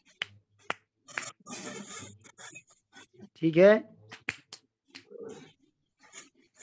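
Two fingers clap against the left palm during a Hindu mantra ritual, giving a few sharp, isolated slaps spaced irregularly between stretches of close speech.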